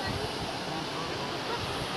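Flash floodwater runs high and fast near a bridge on a village road, a dense unbroken roar of rushing water that fills the whole stretch at steady loudness.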